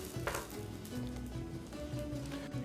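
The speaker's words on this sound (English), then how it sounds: "now we're going to cook our flank steak, our tasajo" Flank steak (tasajo) sizzling on a smoking-hot oiled grill pan, a steady, dense crackle of frying that stays close and continuous.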